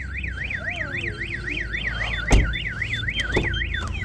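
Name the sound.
Dodge Durango Trackhawk Compustar car alarm going off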